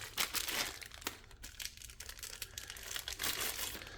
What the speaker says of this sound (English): Lots of tape and plastic going on here.